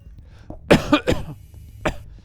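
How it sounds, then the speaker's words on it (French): A few short coughs close to the microphone, two quick ones together, then another, and a final cough after a pause. "petite toux de rien du tout"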